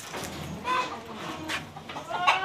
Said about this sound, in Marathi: थोडेच कोंबडे आहेत त्यांच्याकडे